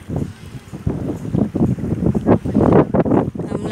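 Strong gusty wind at a seaside beach in the evening, buffeting and rumbling in uneven bursts, loud and close with a faint voice mixed in.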